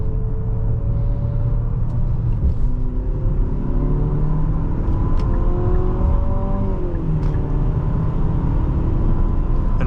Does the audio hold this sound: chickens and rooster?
no